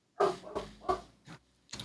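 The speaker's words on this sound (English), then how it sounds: "I don't know if she's barking at next door." A dog barks in a short burst of about four sharp barks, close and moderately loud, in a home setting with no talking over it.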